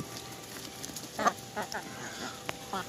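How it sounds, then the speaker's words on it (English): Hungry backyard chickens, a Sussex among them, give scattered soft clucks and short calls at moderate distance, with faint voices in the background. "Here are the chickens"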